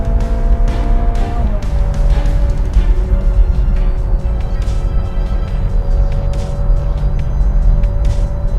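A Ferrari 458 drones steadily inside the cabin as it picks up speed, with one early shift in engine pitch. The low engine rumble stays loud and continuous, with faint background sounds over it.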